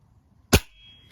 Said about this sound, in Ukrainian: І потім, витискаючи спусковий гачок, відбудеться постріл